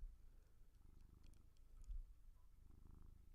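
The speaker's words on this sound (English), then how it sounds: "Can you guys hear that purr?" Quiet, steady low rumble of a cat purring near the microphone, faint and continuous with no speech.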